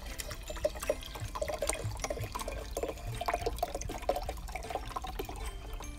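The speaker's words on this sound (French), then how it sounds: "Vous versez de l'eau." Water is poured into a jar of lentils set out for sprouting, a continuous splashing trickle with small gurgles and drips, close and steady throughout.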